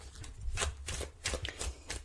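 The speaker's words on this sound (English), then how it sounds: "I'm going to shuffle the cards now" Tarot cards being shuffled by hand, a few rapid riffling bursts separated by brief pauses, close and crisp with no voices over them.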